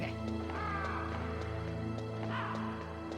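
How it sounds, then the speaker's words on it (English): Ravens in the Metal Gear Solid video game give a couple of crow-like caws, heard over droning in-game background music. "Are they making crow noises, or is that just me?"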